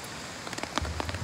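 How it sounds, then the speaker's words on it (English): Rain patters on a hammock tarp in close, dense, hissing taps, with a few sharper drops landing on the fabric near the end of the short stretch. "So if this rain persists"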